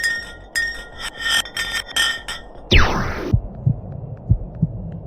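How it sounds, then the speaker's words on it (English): Block of ice dropped down a deep borehole, ringing metallic pulses giving way to a sharp descending sweep, then low, dull heartbeat-like thuds fading at irregular intervals. "The pitches changed over the quick descent of the block of ice, ranging from high pitch and ending with a low heartbeat-like sound."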